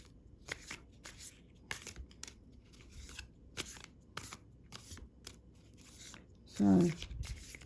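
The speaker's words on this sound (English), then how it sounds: "So let's get another couple of cards out." Playing cards drawn from a deck and handled, with repeated dry sliding and flicking rustles in an irregular rhythm, close by, ending with a brief louder shuffle-like burst.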